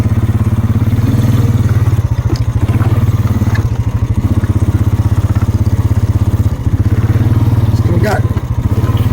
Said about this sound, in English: Four-wheeler's leaning over at quite an angle here.